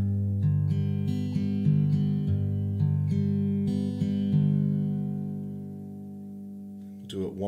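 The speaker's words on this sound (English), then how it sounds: "So if we put the fingerstyle pattern together from the beginning, it's going to sound like this." Acoustic guitar played fingerstyle, plucking an arpeggiated pattern over chords from a song, notes ringing and overlapping close up, then a final chord left to sustain and fade.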